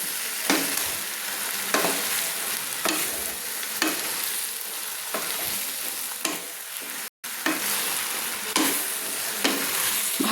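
Malabar spinach sautéing in oil with spices gives a constant close sizzle and hiss, broken by regular scraping stirs about once a second and a brief drop to silence near the end.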